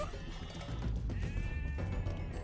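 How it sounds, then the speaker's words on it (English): Sheep bleat in the Age of Empires 2: Definitive Edition real-time strategy game, a few short moderate calls set against steady in-game ambience and effects. "we get a couple free sheep from it too"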